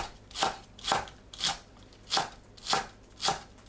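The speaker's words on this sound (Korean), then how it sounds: "파를 작게 썰어주세요" Green onion being finely chopped on a board, six crisp, evenly spaced knife strikes, close and clear with no talking.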